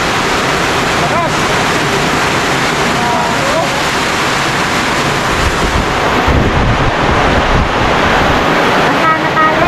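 Strong typhoon wind roars with driving rain, a loud, constant rushing gust noise buffeting the microphone, while people talk over it.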